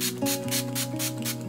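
A makeup setting spray is misted onto the face in several quick puffs, each a short airy hiss, over steady background music.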